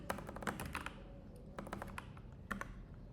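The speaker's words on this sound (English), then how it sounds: "But I love this keyboard. This keyboard, the Nupi Air 75, if I'm not mistaken." Typing on a Nupi Air 75 computer keyboard, close and alone, with bursts of quick keystrokes and short pauses between them.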